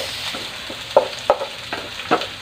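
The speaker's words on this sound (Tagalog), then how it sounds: "Sinunod ko naman ang ating bawang sibuyas." Pork frying in a pan with garlic and onion, a steady sizzle broken by several sharp utensil scrapes and stirs up close.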